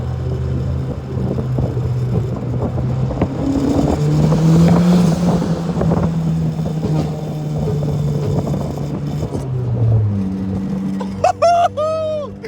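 A loud turbocharged Mitsubishi Lancer with a custom exhaust drones and rumbles steadily, its pitch rising and falling as it revs, then settles near the end as a sharp whine cuts in.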